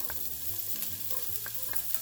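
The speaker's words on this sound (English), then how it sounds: "to our pan, we are going to add in our onion" Chopped onion sizzling as it goes into a hot oiled pan and gets stirred, a short soft crackle with a few scraping stirs, close and fairly quiet, no voices.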